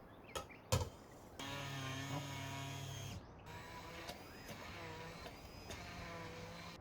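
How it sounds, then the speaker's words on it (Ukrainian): A blender motor whirs steadily for a couple of seconds blending cheese, sour cream and salt, stops briefly, then runs again with a sustained hum, preceded by a few sharp knocks. "Всипаю дрібку солі і перетираю все блендером."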